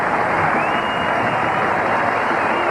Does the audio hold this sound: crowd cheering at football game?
yes